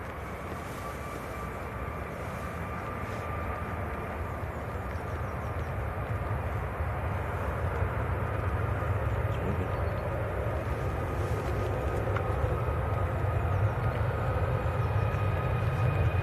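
An Emirates airliner departs Manchester Airport, its engines a steady, broad roar that builds slowly and holds loud and continuous for about sixteen seconds, heard from a distance with no talking.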